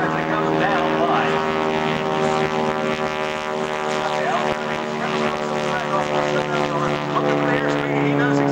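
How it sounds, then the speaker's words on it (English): An SNJ T-6 piston warbird flying aerobatics at an airshow gives a steady, loud propeller drone with a rich harmonic buzz that holds throughout, without pause. "Difficult to do in an SNJ T-6 aircraft."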